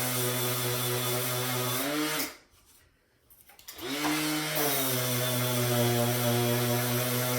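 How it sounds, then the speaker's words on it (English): Orbital sander running over vinyl plank (LVT) flooring, a steady loud whirring drone that briefly cuts out and then spins back up to full speed, close by with no talk. "This orbital sander ran over the surface."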